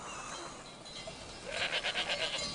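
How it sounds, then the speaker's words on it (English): Goats grazing in wild Provence hills bleat in a short burst of several quavering calls near the end, over a soft outdoor background. "I'm lucky to walk around while I look after my goats."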